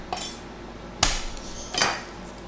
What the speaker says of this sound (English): So first, crush the garlic